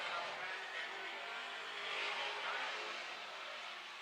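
Midwest modified race cars pass on the Amsoil Speedway oval. Their engines blend into a faint, distant roaring wash that swells and fades slightly, with no voices over it.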